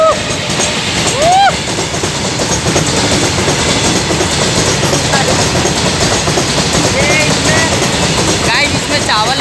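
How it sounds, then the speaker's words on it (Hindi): A train rolls past behind a railway crossing, a loud, sustained rumble with clattering wheels and squealing rail contact throughout. "ट्रेन ये हमारे पीछे आ चुका, और नाउ अब देख सकते हो ट्रेन को"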